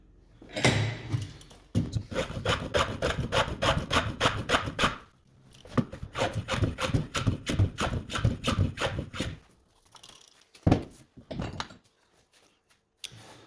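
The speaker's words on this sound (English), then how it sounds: "I've now planed down the edges to give myself an octagonal shape" A hand plane shaves the edges of a wooden tool box handle in two runs of quick, rhythmic rasping strokes, followed by a pause and a couple of soft knocks of wood.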